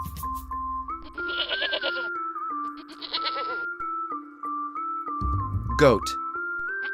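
A goat bleats twice in short wavering cries over a steady melodic line and low rhythmic backing, with a brief louder burst near the end.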